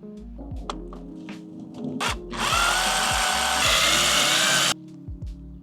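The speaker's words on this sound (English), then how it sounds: "you're just gonna drill it underneath, and we'll do the same for the other side." A power drill bores into a plastic body kit lip mounted on a 2025 Honda Civic Si, its high whine revving up for a couple of seconds then cutting off, preceded and followed by softer knocks and music.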